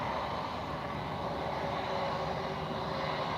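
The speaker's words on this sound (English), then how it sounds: "And now we have this one advancing for takeoff." A Vueling Airbus A321 rolls forward for takeoff at Lisbon Airport, its engines producing a steady, continuous broadband roar at moderate distance with no talking over it.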